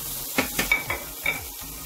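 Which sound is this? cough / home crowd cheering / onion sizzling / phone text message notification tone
onion sizzling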